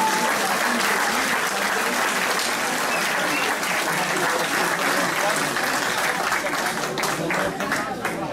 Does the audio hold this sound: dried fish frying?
no